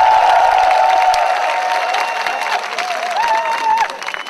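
Applause and some cheering rise from an audience of soldiers at a military base entertainment show, loud at first and then thinning, with other sound threaded through.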